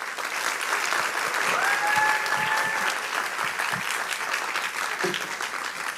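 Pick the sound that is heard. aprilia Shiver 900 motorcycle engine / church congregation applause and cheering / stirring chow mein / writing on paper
church congregation applause and cheering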